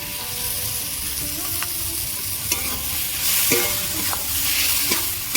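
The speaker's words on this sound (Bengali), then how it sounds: "আরও এইভাবে কষিয়ে নেব ডালের সাথে জল দেব" Boiled lentils being sautéed in a pan with a fried fish head for a Bengali dal, giving a continuous close sizzle broken by several scraping strokes of a stirring spoon.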